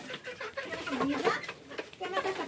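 Pet chickens in a poultry farm shed give soft, close clucks and coos in short irregular bursts.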